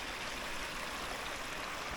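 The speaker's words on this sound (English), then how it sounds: "a gently meandering creek so far" Gently meandering creek on Vancouver Island, a soft steady wash of flowing water, faint and continuous, with no voices.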